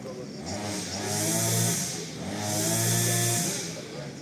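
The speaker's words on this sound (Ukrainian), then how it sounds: "ви чуєте ці прекрасні звуки, будови," Construction and renovation work in a town centre, heard as a steady, loud motorised whine like a saw or power tool that swells twice over several seconds, with no voices over it.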